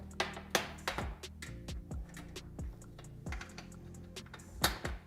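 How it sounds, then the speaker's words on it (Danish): A plastic rail clicks onto a kitchen hood filter in a series of sharp, close snaps and taps, irregularly spaced and fairly quiet. "Klikker vi plastikskinnen på."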